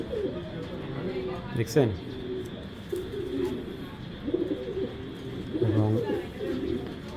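Silver racer pigeons coo softly and repeatedly at a pigeon farm, the throaty calls close by but mostly under someone talking throughout.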